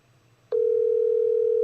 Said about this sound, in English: all the phones ringing, but it shows you how genuine these people are